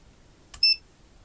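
An Owon CM2100B clamp meter gives a single short, bright electronic beep on its continuity test, preceded by a faint click, in a quiet room.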